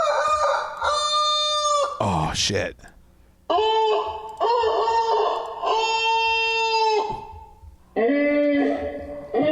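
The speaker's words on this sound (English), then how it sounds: "That's typical rooster." Several loud, close rooster crows in succession, long harmonic calls separated by short gaps, with a brief exclamation from a person partway through.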